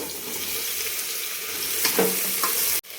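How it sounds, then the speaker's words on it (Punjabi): Vegetables roasting in hot mustard oil in a cooker give a steady, dense sizzle and crackle, close and continuous, with a few scraping stirs before it cuts off abruptly. "ਤੇਲ ਗਰਮ ਹੋਣ ਤੋਂ ਬਾਅਦ ਆਪਾਂ ਸਬਜ਼ੀਆਂ ਨੂੰ ਹਲਕਾ ਹਲਕਾ ਜਿਹਾ ਭੁੰਨ ਲਵਾਂਗੇ"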